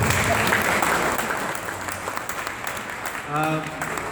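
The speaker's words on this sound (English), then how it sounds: "Let's give them a round of applause." Brief applause from an audience, a burst of clapping that gradually thins out, with a voice emerging near the end.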